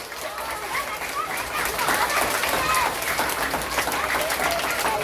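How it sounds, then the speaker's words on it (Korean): Children at an elementary Sunday school service clapping together, a loud, lively burst of applause with some chatter and voices mixed in throughout. "자, 박수!"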